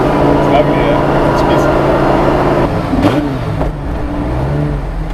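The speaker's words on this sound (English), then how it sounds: "The V10 makes such a distinct noise." An Audi R8 V10 engine in a street-legal Porsche 917 replica runs loud and close, holding a strong steady note before easing off, with people talking over it.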